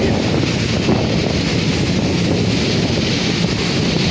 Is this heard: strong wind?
yes